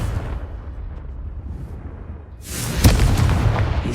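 A fiery spell blast in Hogwarts Legacy lands after a quiet stretch as a sudden loud boom with a crackling rush that lingers for a second or two.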